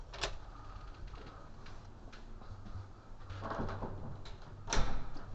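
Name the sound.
door opening and closing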